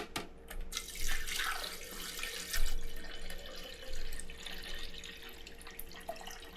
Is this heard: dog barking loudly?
no